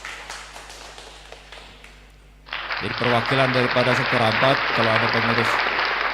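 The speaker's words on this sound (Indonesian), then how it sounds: "Iya, tepuk tangan." Congregation applauding the winners at a church service, dense clapping that starts abruptly after someone speaks and continues loudly while his amplified voice carries on over it.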